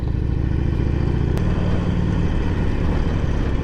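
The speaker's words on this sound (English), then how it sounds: "The garbage truck's going to pass the semi." Garbage truck overtaking a slow semi truck on the road, heard as a steady, loud engine drone and road rumble with no break throughout.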